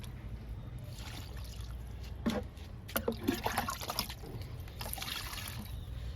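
Liquid is poured onto green chilli plants, a faint soft trickle and splash in short bursts over quiet outdoor background.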